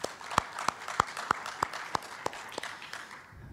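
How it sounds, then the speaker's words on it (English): Applause from a conference audience at an international business event in Thailand: a slow, sparse run of individual claps, fairly quiet and a little distant, fading out. "Ladies and gentlemen, round of applause for TCEB."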